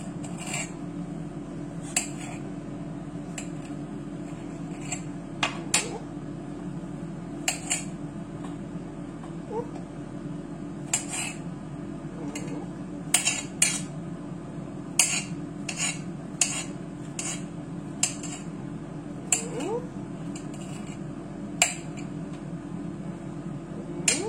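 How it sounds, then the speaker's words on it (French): Knife cutting mushrooms on a board, sparse sharp taps and clicks scattered over a steady low hum, close but light, with no talking. "Pendant ce temps-là, on coupe les champignons."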